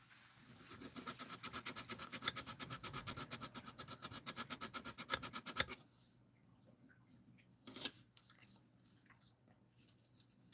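220 grit sandpaper rubbed heavily by hand over a rounded wooden piece, rapid rhythmic scratchy strokes that are fairly faint and stop after about six seconds, leaving quiet room tone and a single knock.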